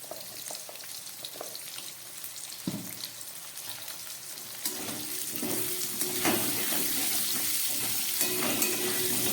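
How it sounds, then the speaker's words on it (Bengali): Potatoes frying in a pan with a little salt and turmeric, a close sizzle that swells louder and steadier in the second half, punctuated by a few utensil knocks. "আলুগুলোকেও আমি এবার 2-3 মিনিটের মতো একদম মিডিয়ামে রেখে আঁচটাকে ভেজে নেব"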